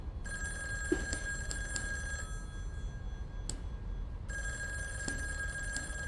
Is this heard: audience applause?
no